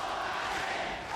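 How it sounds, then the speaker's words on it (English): A packed crowd of about 16,300 roars in the Budokan arena as Kenta Kobashi faces Big Van Vader after the opening bell, a continuous loud wall of cheering. "Crowd is already roaring behind Kenta Kobashi"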